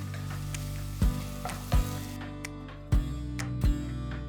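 Garlic, ginger, green chilies and chopped onion sizzle steadily in a tablespoon of oil, with a few sharp clanks of a spoon or utensil against the pan over the continuous frying hiss.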